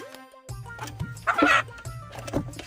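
Chickens cluck close by in short, uneven bursts, with one louder squawk in the middle.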